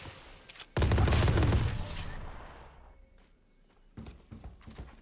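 A loud burst of gunfire from a weapon in the video game Valorant, starting sharply and tailing off into a fading echo, followed by a few softer shots near the end.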